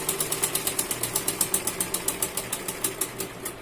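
A sewing machine stitching a printed button-placket blouse, a rapid even run of mechanical clicks close up with a steady whirring hum underneath, alone without speech.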